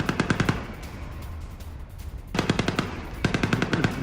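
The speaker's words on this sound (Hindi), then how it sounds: "ये देखिए गोलियों की तड़तड़ाहट की आवाज सुनिए।" Automatic gunfire on a highway in Russia, with rapid bursts of loud close shots, a brief pause, then two more sustained bursts.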